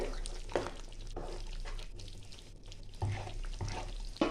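A spoon stirs chicken curry in a pan after hot water has gone in, giving soft scraping strokes and a few louder clanks over a faint bubbling sizzle, up close and fairly quiet.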